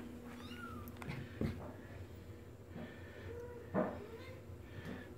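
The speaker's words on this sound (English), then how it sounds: "Little short haired kitty." A short-haired cat meows a few times indoors, brief moderate calls spaced a couple of seconds apart over a low household background.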